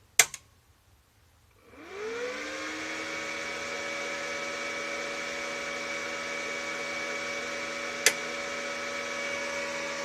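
A click, then after a short pause a motor whirs up and settles into a steady electric fan hum with a tonal drone, plus one brief tick later, from a Svitiaz SA 265DK fan.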